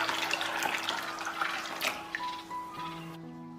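Water poured from a tap over 400 g of peanuts to soak, a close steady splashing rush that thins into trickles and stops, with a faint hum underneath.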